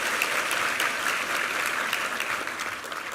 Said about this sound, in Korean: 이부 성가대 한번 힘찬 감사의 박수 부탁합니다.